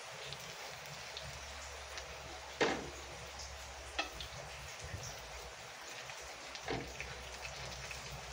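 Heavy typhoon rain falling steadily, a constant wash of hiss with a few sharper splashes and knocks, fairly faint and with no one speaking.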